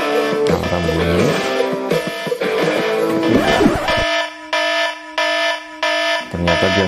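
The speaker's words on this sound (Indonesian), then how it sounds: "Alarm bunyi." An alarm rings loudly in a continuous electronic tone, then breaks into regular on-off pulses toward the end.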